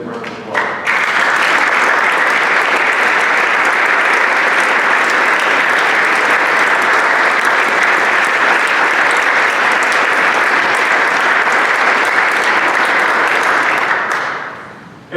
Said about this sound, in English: Why don't you all stand up so everybody can give you guys a round of applause.